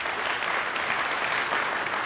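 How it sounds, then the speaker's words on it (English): A live radio show audience applauding a bluegrass band loudly and continuously, a dense wash of clapping with no pauses. "Let's give a round of applause to"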